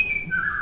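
A short, clear whistle slides from a high note down to a lower one, heard alone against a quiet background.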